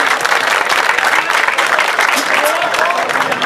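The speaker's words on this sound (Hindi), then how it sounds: "आपसे गुजारिश है कि भरपूर तालियां होनी चाहिए।" Dense audience applause fills a live devotional music gathering, loud and continuous with steady clapping, while a voice speaks briefly through the middle.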